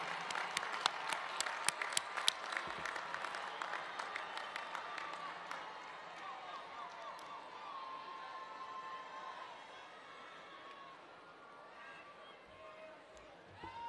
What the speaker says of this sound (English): join me in applauding your success